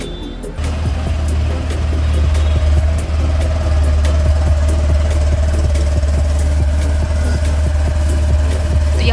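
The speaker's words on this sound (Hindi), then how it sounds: "इलेक्ट्रिक स्टार्ट ही प्रोवाइड कराई गई है और कुछ इस तरह की आपको एग्जॉस्ट नोट से आवाज़ सुनाई देगी" A Honda Activa 6G 110cc scooter starts quietly with its electric starter, then settles into a steady, loud, even exhaust idle heard up close.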